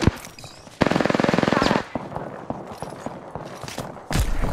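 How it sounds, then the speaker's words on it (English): Automatic gunfire from an Apex Legends match: a rapid, loud burst of evenly spaced shots lasting about a second, followed by scattered footsteps and game clatter, then a heavy blast near the end. "Shots fired."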